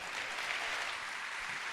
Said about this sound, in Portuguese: Uma salva de palmas para ela.